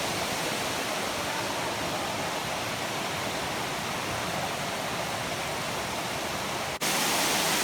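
A waterfall in a cave gives a steady, loud rush of falling water that fills the space, broadband and constant throughout, with a brief dip near the end before the roar resumes.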